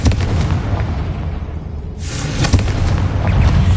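A fiery spell explosion in the video game Hogwarts Legacy, a loud, dense burst of booming roar that swells and crackles continuously, close and forceful with no talking.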